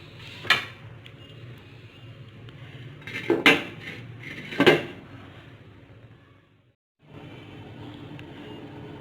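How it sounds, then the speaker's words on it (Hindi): A metal spoon clinks sharply against a cooking pot of milk simmering for carrot halwa, giving three distinct knocks over a low steady kitchen hum, followed by a short silence. "इसमें दूध बॉयल हो रहा है। इसमें हम चम्मच हिलाएंगे।"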